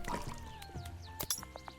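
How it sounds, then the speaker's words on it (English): Video game water poured over a wine cap mushroom, a short burst of splashing liquid with a few drip and squish accents, close and moderately quiet. "Bungus pours all the water on one wine cap"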